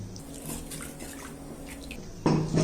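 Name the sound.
pouring ground millet batter into cooker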